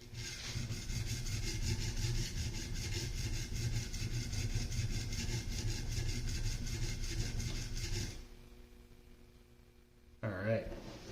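A hand plane iron is rubbed back and forth on a sharpening stone in a steady run of close, gritty strokes for about eight seconds, then stops and a brief clatter follows.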